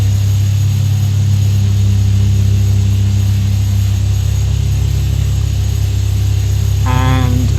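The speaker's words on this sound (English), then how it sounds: "Now we can bring our propellers up to full RPM." Propeller aircraft engines in the X-Plane flight simulator on an Alaska trip, running up toward full RPM as a loud, steady low drone with a constant tonal hum throughout; a brief rising tone enters near the end.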